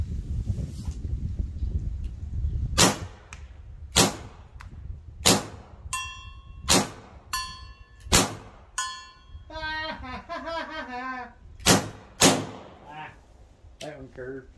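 Sharp airgun reports from a VKS rifle with power barrels firing homemade shaped pellets at 46 to 50 joules, about a dozen loud cracks spaced a second or so apart, some followed by ringing metallic target clangs, with a voice speaking between shots.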